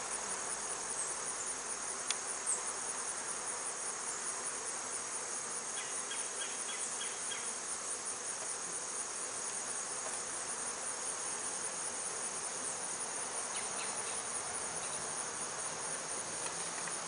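Honey bees hum at a hive entrance as foragers return, a steady, dense buzz filling the air with a few louder passes close by, no voices.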